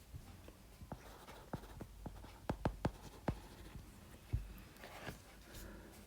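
Chalk or pen taps and scratches across a board while a proof is sketched, with irregular sharp strokes clustering in bursts, fairly faint and close, with no voices.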